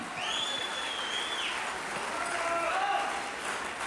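Wedding guests applauding the grandparents, a continuous wash of clapping mixed with crowd noise and faint voices, steady throughout with a high whistling tone drifting over it.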